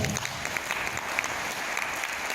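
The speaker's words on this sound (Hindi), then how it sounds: "तो इनके लिए जोरदार तालियां।" A brief burst of steady audience applause at an event in Patiala, a dense wash of clapping that holds at a constant level with no voices standing out.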